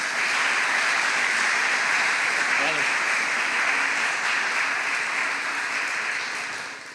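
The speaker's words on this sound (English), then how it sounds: "let's give him one more round of applause and welcome him back up on stage" An audience at a civic talk gives a steady round of applause as a speaker returns to the stage, a continuous moderately loud clapping wash that fades near the end.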